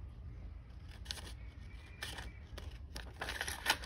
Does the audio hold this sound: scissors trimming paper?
yes